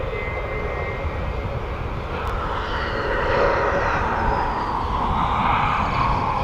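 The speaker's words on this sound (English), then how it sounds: "the Atlas is on approach now" An Atlas cargo aircraft on approach to East Midlands Airport gives a steady, broad engine roar that swells slightly midway, heard at a distance outdoors without speech.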